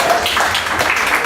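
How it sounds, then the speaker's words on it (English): A short spell of clapping from guests at a meeting, steady and fairly close, filling the moment without speech. "Another round of applause."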